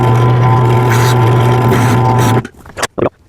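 A power drill drills out a plastic gear from a Power Wheels 7R gearbox with a 3/8 bit, a loud steady whirring drone close by that stops suddenly, followed by a few short handling knocks.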